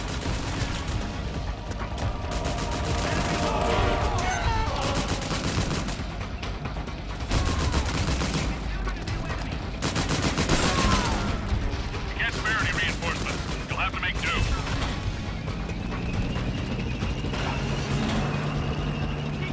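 Gunfire in the video game Metal Gear Solid 4 near a tank, with dense, loud bursts of shots and mechanical clatter layered over continuous battle noise.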